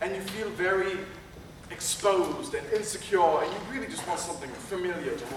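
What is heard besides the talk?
No everyday noise stands out behind the speech.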